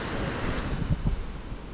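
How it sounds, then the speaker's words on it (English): A broad wash of running water at a river crossing on a Spiti Valley mountain road, steady and moderately loud, with faint wind and a couple of brief low thumps, no voices. "A big ass water crossing."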